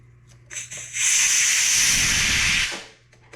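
A Mares Abyss regulator second stage, mid-rebuild, lets out a loud, steady hiss of escaping gas for about two seconds while being tightened, starting and stopping abruptly near the listener.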